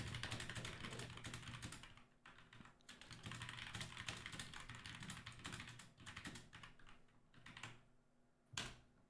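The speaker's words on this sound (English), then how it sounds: "he's typing up a storm" Rapid, busy typing on a computer keyboard, dense bursts of clicking keys close to the microphone with brief pauses and a few sharper taps near the end.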